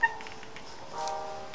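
A pet cat lets out a brief, close meow that rises and falls, and a faint click comes just before it in a quiet room.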